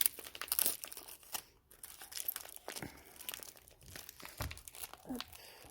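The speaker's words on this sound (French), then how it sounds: "je continue d'enlever le scotch" Quiet, close crinkling and ripping as tape is peeled off a mystery plant box parcel, in short irregular bursts.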